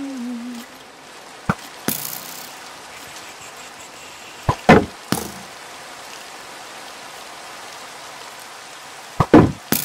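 Rain falls as a steady soft hiss, with several sharp clicks and knocks breaking through at intervals.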